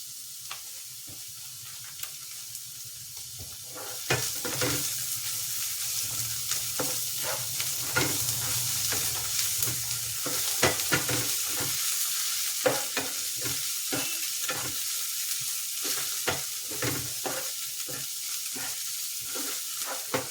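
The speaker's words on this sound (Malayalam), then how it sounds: "നമുക്ക് ഇവിടെ വെളുത്തുള്ളി ഇഞ്ചി പേസ്റ്റില്ലേ അതിട്ട് കൊടുക്കാം" Garlic ginger paste sizzling in hot oil in a pan while a spoon stirs it, a continuous frying hiss with repeated scraping clicks, growing busier after a few seconds, close and alone.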